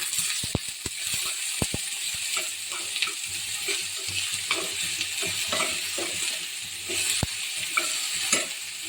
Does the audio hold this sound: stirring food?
yes